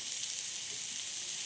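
Sliced onion frying in oil in a pan for aloo dum, giving a steady, soft sizzle with an even hiss throughout and no talking.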